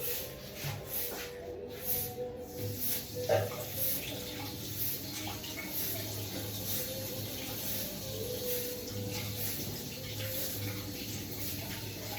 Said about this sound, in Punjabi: ਪਹਿਲਾਂ ਇਹਨਾਂ ਨੂੰ ਧੋ ਲਈਏ ਧੋ ਕੇ ਕੱਟਦੇ ਹਾਂ